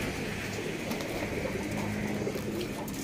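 Pigeons of a Plosur breed kept in a loft cooing, soft low repeated calls in a close, busy setting with a steady noisy background.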